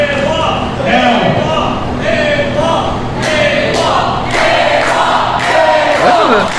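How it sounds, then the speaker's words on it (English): Wrestling fans in a packed arena at a PWF Livewire event cheer and shout for AWOL, a dense sustained roar with voices rising and swelling throughout, loud and near, with commentator talk mixed in. "Listen to this crowd."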